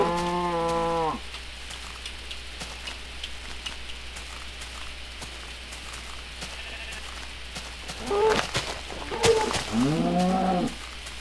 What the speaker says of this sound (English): I hear you, cow.